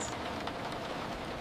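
Heavy rain falling in a steady, dense hiss with no gaps, close and even throughout, with no voices.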